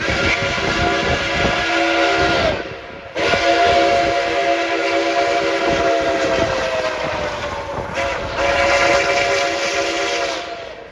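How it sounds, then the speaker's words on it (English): The whistle of steam locomotive 765 blows in three long, loud blasts with brief gaps between them, a rich multi-toned chord with no voices. "That whistle echoes like the beast."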